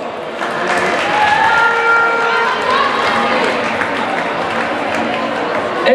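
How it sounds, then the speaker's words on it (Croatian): Applause from a crowd at a school handball medal ceremony, a steady broad wash of clapping that carries on for the whole stretch at fairly close range. "Aplauz!"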